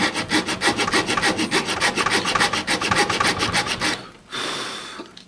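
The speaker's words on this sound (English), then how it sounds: "The hacksaw blade allows you to go more of a angle around the corners." A hacksaw blade cuts through a plastic LSx intake manifold in steady, rapid back-and-forth strokes, loud and close, ending in a brief pause and a final scrape.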